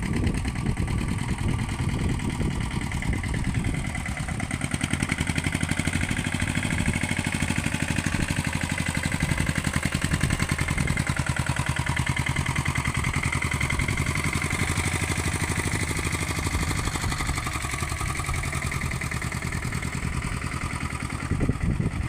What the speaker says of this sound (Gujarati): જો ટ્રેક્ટર હાલી રહ્યું છે વાડીએ